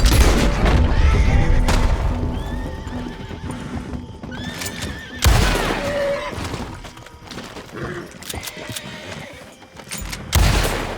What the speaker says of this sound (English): I'm sorry I killed that horse.